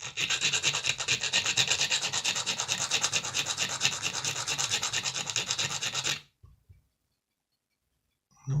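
A Marklin model rolling stock part being rubbed to remove a burr, a continuous close abrasive rasping for about six seconds, then silence apart from a couple of faint knocks.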